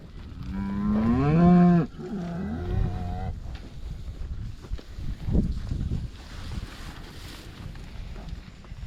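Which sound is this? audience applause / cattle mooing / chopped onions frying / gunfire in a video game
cattle mooing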